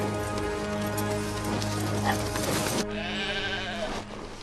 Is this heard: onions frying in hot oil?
no